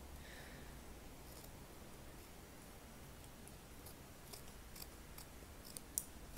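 Scissors cut through excess wedding dress fabric, a faint run of soft snips and rustles close by, with a sharper click near the end.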